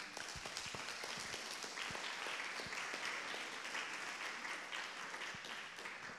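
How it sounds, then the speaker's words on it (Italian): Museum audience applauds a team, a steady roomful of clapping with distinct individual claps popping out over the wash, moderately quiet and even across the whole stretch. "Vi chiedo per loro un applauso"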